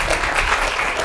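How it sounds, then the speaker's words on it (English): An audience at a presentation at Harvard University applauds, a dense, loud patter of many hands clapping that fills the room evenly from start to end. "Let's give him a round of applause."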